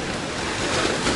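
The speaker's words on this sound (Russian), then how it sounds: "Море волнуется, но очень красиво." Rough storm sea at the beach in Alanya, Turkey, with waves crashing in a broad, continuous roar and gusting wind buffeting the microphone.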